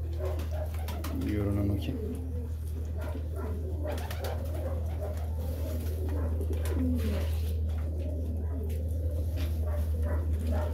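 Balloon pigeons coo softly in a loft, their low murmuring calls repeating under a steady background hum while a person talks now and then.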